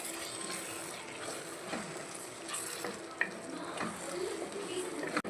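Brinjal gravy (ennai kathirikai thokku) stirred as it fries in a pan, a steady close sizzle with repeated scraping strokes of the spoon and one sharp knock near the end.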